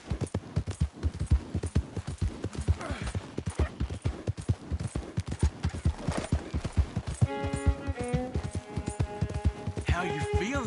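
Horse hooves clip-clop at a steady walking rhythm in Red Dead Redemption 2, close and clear, with occasional musical tones and game sounds layered over the hoofbeats.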